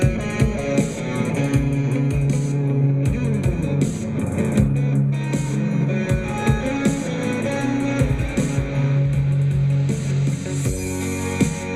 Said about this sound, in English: I created a little sweep transition into this next section here and added a cymbal crash and did some ride things here and edited this drum beat